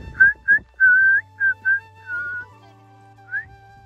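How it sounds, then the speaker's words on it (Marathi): A person whistles outdoors at a family farm picnic, blowing a string of short, clear, close notes in an uneven rhythm, then a longer sliding tone and one final brief note, with a low steady hum underneath. "काय तू कसल्या शिट्ट्या मारायला लागला"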